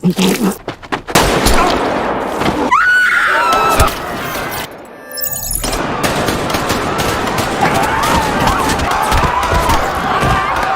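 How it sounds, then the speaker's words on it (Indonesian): Bursts of gunfire in a Squid Game film scene as fleeing players are shot, loud and chaotic, mixed with crowd screaming, panicked shouting and a tense musical swell. "Otomatis mereka semua yang berlarian langsung ditembak mati."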